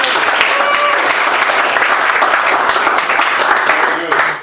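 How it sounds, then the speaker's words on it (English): Lively audience applause at a HealthTech startup weekend event, a dense, sustained round of clapping that carries steadily before tapering off at the end, with some voices mixed in. "Applause for training."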